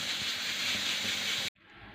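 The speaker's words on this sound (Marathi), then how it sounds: "आता आपलं कुकरच्या चार शिट्ट्या पण झालेल्या आहेत" A pressure cooker cooking a Maharashtrian moong medga lets off a loud, steady, close steam hiss for about a second and a half before it cuts off sharply, leaving only a faint background hum.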